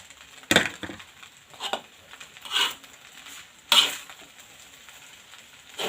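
Vegetables are stir-fried in a little oil in a pan, with a faint sizzle broken by several sharp scrapes and clatters of a utensil against the pan at irregular intervals.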